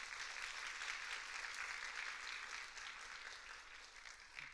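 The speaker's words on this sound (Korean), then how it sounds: "우리 박수로 한번 환영하도록 하겠습니다." A church congregation applauding to welcome visiting missionaries during a Sunday service, a steady, fairly faint wash of many hands clapping from across the room that eases slightly toward the end.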